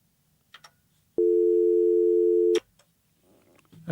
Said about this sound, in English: do you hear a dial tone?